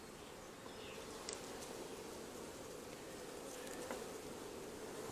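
Honeybees drone around an open hive during an inspection, a faint continuous buzzing swarm with occasional louder passes close by, and no voices.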